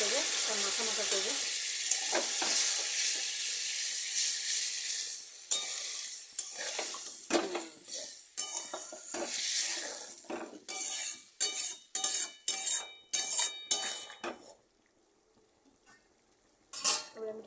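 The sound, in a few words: stirring loitta dry fish curry in a pan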